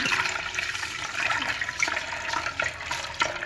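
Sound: tap water rinsing mung lentils in a sieve

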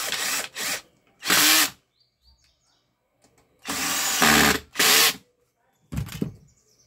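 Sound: power drill tightening screws on Arno Laveo fan

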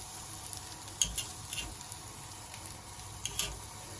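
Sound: fish sizzling while being flipped on the grill

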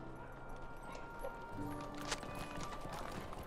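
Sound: horse hooves clip-clopping in a video game

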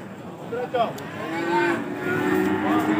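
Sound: cattle mooing at livestock market

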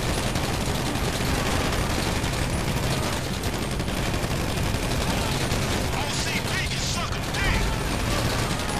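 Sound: gunfire shootout in GTA V Online video game

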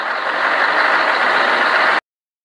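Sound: tow truck

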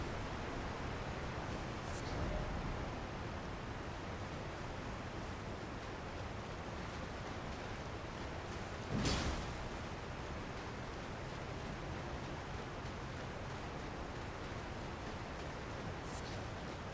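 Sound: waterfall rushing in the video game Elden Ring Shadow of the Erdtree

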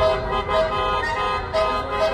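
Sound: car horns honking in a protest

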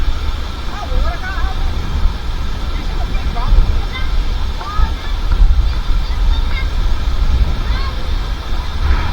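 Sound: typhoon wind and waves at a boat harbor

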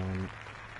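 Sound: polite crowd applause in Cricket 19 video game

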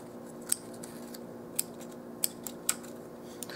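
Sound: scissors cutting paper for a dollhouse miniature toolbox

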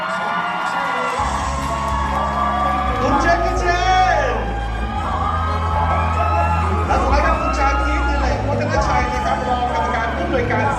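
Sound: crowd screaming and cheering at stage event

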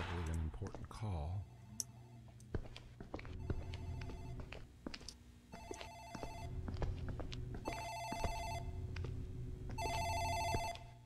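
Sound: office telephone ringing in the video game Dark Fracture

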